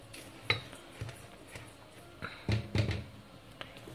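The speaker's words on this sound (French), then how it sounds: "tout mélanger dans un bol" Sugar, flour and almond powder being stirred together in a bowl for an apple crumble, faint scattered clinks and taps of a utensil against the bowl, a few sharper knocks clustered near the end, no talking.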